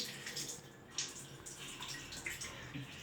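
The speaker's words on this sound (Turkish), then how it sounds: "Şimdi ellerini yıka. Yıka ellerini tertemiz." A child's hands being washed under a running tap in a home bathroom sink, a steady soft water hiss with brief splashes throughout, fairly quiet and without talk.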